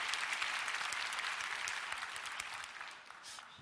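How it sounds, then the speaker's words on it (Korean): Audience claps in a fairly quiet, distant burst of applause with distinct individual claps, gradually thinning and fading over a few seconds. "별거에 박수를 다 치네요"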